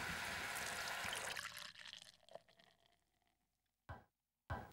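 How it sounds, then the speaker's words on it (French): White wine is poured into a pot of tripe with garlic and spices, a brief liquid splash and trickle that fades quickly, followed by a few short clatters. "on recouvre de vin blanc"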